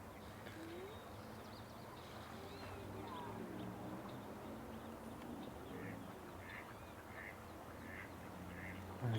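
Ducklings quacking at a marsh, small repeated calls in the upper range over a steady outdoor background, with other birds calling and a voice speaking faintly throughout.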